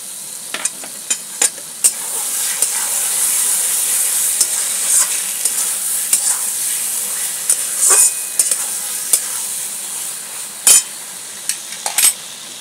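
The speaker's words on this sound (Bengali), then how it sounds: "নুন দিয়েও ভালো করে কষে দেবো বন্ধুরা।" Fish fries with salt in a pan in a bright, steady hiss, broken by frequent sharp clicks and knocks of a stirring utensil against the pan; close and unaccompanied by speech.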